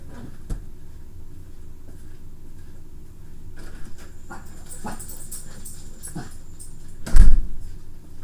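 Dogs indoors panting and whimpering, soft breathy panting through the clip with a brief louder yip or scuffle near the end, close by, with no talking.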